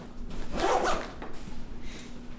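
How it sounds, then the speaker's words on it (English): A Vertx duffel bag's YKK zipper is pulled closed in one quick, close rasping run, followed by quieter handling of the fabric. "I'm going to go ahead and zip everything else up"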